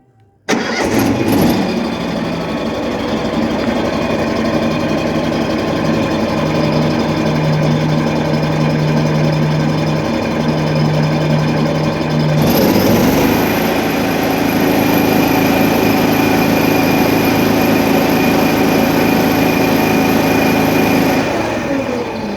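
A carpet cleaning truckmount engine runs steadily at a constant idle, then shifts to a higher, harsher pitch partway through and keeps droning loudly without pause.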